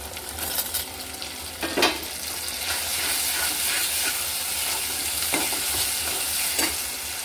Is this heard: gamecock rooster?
no